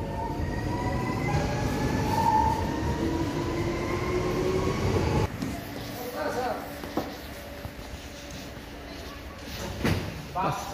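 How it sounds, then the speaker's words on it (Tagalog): A train passing nearby, a continuous loud rumble of rolling wheels and rail noise that shifts character midway, with clanks and squeals, while voices speak faintly underneath. "Bye train."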